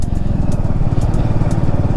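Motorcycle engine while riding on a mountain road toward Kaza in Spiti Valley, a loud, close, rough throbbing drone with steady rhythmic pulsing, no talk over it.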